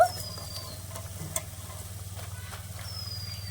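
Steady low frying sizzle of crisp dough sticks for gur kathi in oil, with faint crackles and a soft stirring scrape, close by and continuous, no voices.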